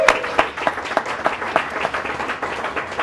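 Live audience at a corporate data-management talk applauds two debaters at the close of their first debate, a steady patter of scattered clapping with a few sharper claps standing out, moderately loud and without any voices.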